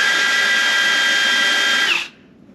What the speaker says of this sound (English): let's drill out all these spot welds and maybe see if we can get this piece of rusty metal out of